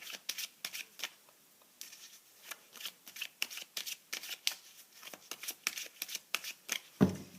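Tarot cards are shuffled by hand in a close, quiet room, a rapid series of crisp riffling flicks and soft slaps repeating steadily, ending with a louder thump as the deck is set down.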